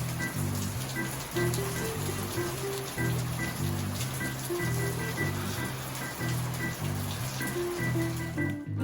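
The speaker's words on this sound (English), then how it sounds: "It's been raining for 2 days. Shows no signs of stopping." Steady rain hisses across a lake throughout on a 39-degree day, with a repeating low melodic tone pattern running underneath.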